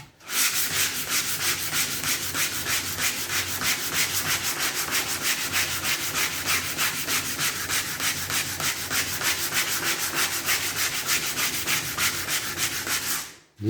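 Steady hand sanding over old putty on a VW Beetle trailer fender, a continuous rhythmic rasp of abrasive strokes repeating evenly, close and loud throughout with no talking.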